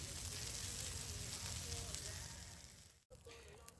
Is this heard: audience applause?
no